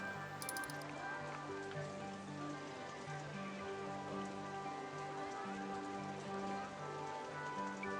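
Steady rain patters across an amusement park in the game RollerCoaster Tycoon 2, a continuous hiss under a faint layer of tonal music, with no break for the full stretch.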